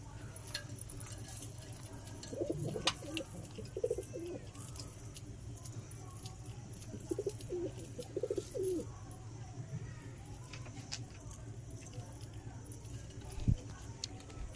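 Andra and Madras pigeons coo softly in a few short low bursts, faint against a steady hum, with an occasional metallic jingle and click nearby.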